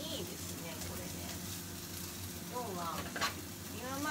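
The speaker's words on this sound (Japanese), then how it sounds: "今までだったらこのヘラで こう炒めてたんですけど" Shrimp fried rice is stir-fried with a spatula in a small home kitchen, making a continuous close sizzle with light scraping, while people talk over it.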